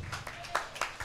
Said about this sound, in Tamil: கிருபையை கொடுத்த தேவனுக்கு நல்ல கையை தட்டி